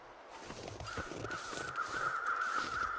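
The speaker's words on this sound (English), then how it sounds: "Is there a second set of crows?" Repeated crow caws from the video game The Long Dark, a steady chorus of harsh calls layered over one another against a windy outdoor backdrop, fairly close and persistent throughout.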